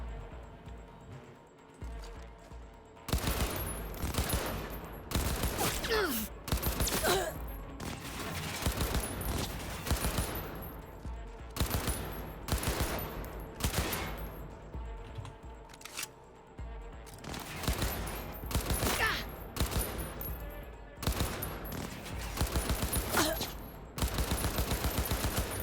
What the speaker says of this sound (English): Somebody's shooting at me from somewhere else.